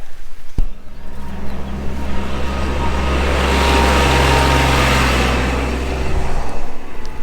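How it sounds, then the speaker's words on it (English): A boom truck's engine starts with a sharp click, then settles into a loud, steady, deep idling rumble with a rising roar in the middle, heard up close with no talking. "we're gonna go start that boom truck again."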